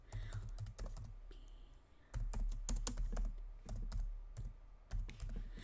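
Letters typed one by one on a computer keyboard while setting up a design for travel games, giving a steady run of close, crisp key clicks with brief pauses and no talk.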